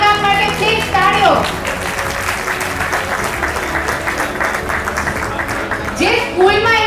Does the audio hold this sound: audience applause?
yes